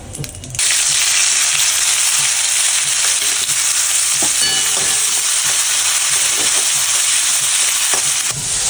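Sliced onions dropped into hot oil with whole cumin and two bay leaves burst into a loud, close sizzle that holds steady, with faint stirring scrapes and no talking.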